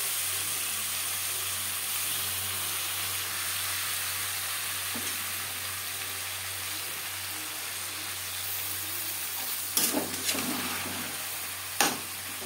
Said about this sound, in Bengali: বাঁধাকপি বেশ ভালো করে মিক্সড করে দেব